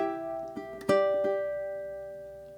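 Ukulele plucking a bar of Scarborough Fair, a few soft picked notes followed by a brighter strummed chord that rings out and slowly decays, alone and fairly close.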